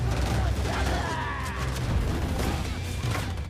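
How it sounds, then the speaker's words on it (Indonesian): Film gunfire as attackers spray a car with bullets in an action movie, a dense crackling fusillade mixed with crashes and booms, loud and continuous, partly under someone narrating. "para penyerang mulai memberondong kendaraan James dan John dengan tembakan brutal"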